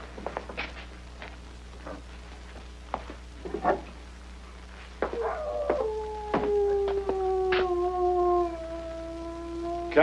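A dog tied up behind a tent area howls and whimpers in drawn-out, wavering cries that rise and sag, broken by scattered thumps and shuffling, moderately close in a quiet night setting.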